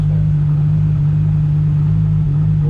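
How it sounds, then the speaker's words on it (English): A steady, loud, low engine rumble fills a convention center in Miami as many cars line up to enter a car show, droning without change and with no voices. "Crazy the amount of cars that are coming in here."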